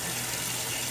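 Aluminum RC parts fizz and bubble in a de-anodizing solution, a steady close hiss of small bubbles with no break and no voices.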